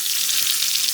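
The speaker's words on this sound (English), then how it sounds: "Oil is hot. Let's put some cumin seeds." Cumin seeds sizzle in hot oil for a dal tadka, a brief, bright, steady crackle close by.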